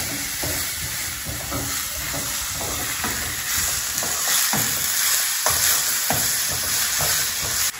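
Tomatoes and onions fry together in a pan, giving a steady, loud sizzle with occasional stirring scrapes throughout and no talk.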